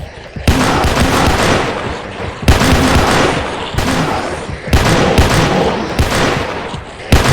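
Gunfire in the Roblox game PARACAM: loud, continuous bursts of shots that break off briefly and restart several times.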